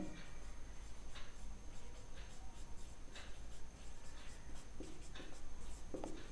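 Marker or chalk writing a trigonometric identity on a classroom board, a steady series of faint, short scratchy strokes in a quiet room.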